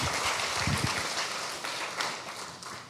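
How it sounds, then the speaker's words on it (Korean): A church congregation applauding at an evening service of a summer retreat, a dense, steady wash of many hands clapping together, loud and even, easing slightly toward the end. "감사 영광의 박수"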